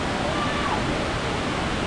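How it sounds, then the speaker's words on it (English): A loud waterfall produces a dense, constant roar of running water, close and unvarying over the short span, with a hint of voices mixed in. "It's loud up here. There's just so much running water."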